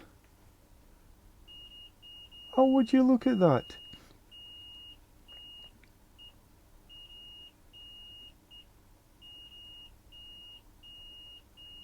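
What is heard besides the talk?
multimeter continuity beep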